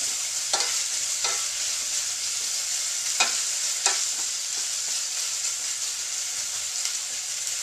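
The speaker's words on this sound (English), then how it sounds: "Just stirring." Herbed vegetables fry in a pan with a steady close sizzle, broken by several short scraping stirs of a utensil across the pan.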